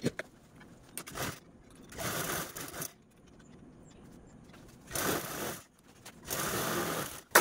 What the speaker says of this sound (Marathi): आपण अगोदर ह्या कडेकडेच्या दोन साईडने अगोदर स्टिच करू आणि नंतर बॉटमचा पार्ट स्टिच करून घेऊया